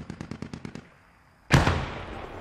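Enemy machine gun rattles in a war game battle at Heelsum: a rapid burst of about seven sharp shots, a short pause, then a loud close blast with a long ringing decay.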